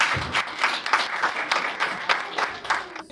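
Scattered, uneven hand clapping from a small audience at a Togolese cultural evening in Brussels, a few distinct claps rising above a light patter.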